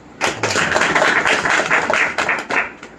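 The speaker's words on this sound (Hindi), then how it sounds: "जोरदार ताली।" An audience at a Bhagavad Gita lecture breaks into loud applause, a dense burst of clapping that lasts about two and a half seconds and then stops abruptly.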